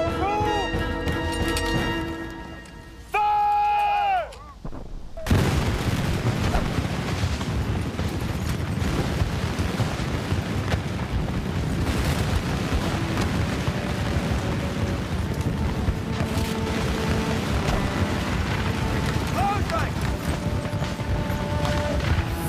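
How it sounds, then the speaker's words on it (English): French infantry musket volley on the Plains of Abraham, Seven Years' War battle: a loud, dense crackle and rumble of gunfire that runs for most of the span after a short musical lead-in, with faint tonal elements over the din. "When the French are within 40 yards of the British, they form for their second volley."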